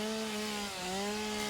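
A chainsaw in the factory-building game Satisfactory whines at a steady, sustained pitch, droning evenly with a brief dip midway, alone and fairly quiet.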